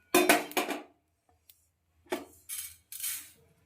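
A cooking pot and a bowl knock and clink in a kitchen as fried cumin seeds are moved from the pan, giving two quick clatters, a pause, then several brief scraping clinks up close.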